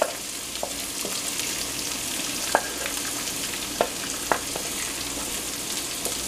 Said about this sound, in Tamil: தேவையான அளவு வெங்காயத்தை அதில் போட்டு வதக்குங்க